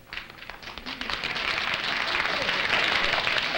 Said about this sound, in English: Three wealthy widows out there applauding.